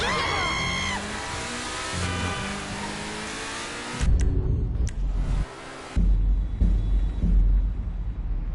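A car in GTA 5 revs and accelerates, with a loud, rising engine whine that cuts into heavy low rumbling and thumps, close and continuous throughout.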